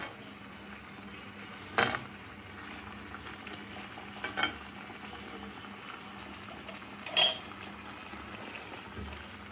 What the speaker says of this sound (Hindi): मैं एक बार स्टर मिक्स कर लूँगी अच्छे से